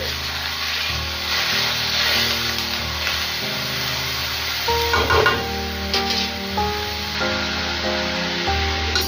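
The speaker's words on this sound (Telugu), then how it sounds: "మీడియం ఫ్లేమ్లో పెట్టుకొని ఉల్లిపాయలు ఫస్ట్ బాగా ఫ్రై చేసుకోవాలి" Onions frying in mustard oil over a medium flame hiss and sizzle steadily, with a spoon scraping and stirring the pan near the mic while music plays underneath.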